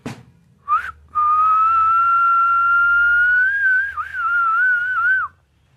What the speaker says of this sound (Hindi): वेताल ने तेज सीट